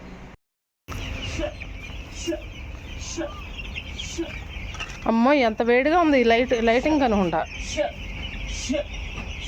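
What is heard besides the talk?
chickens clucking on a farm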